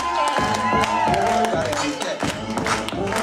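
A party crowd at a bar mitzvah celebration at Benvenuto's in Delray Beach, Florida, clapping and cheering loudly, with shouts and whoops over steady applause.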